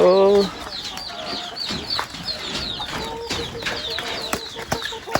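Chickens cluck nearby in short, scattered calls while people talk over them.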